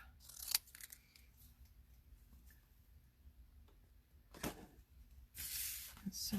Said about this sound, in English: So I'm just cutting these in half.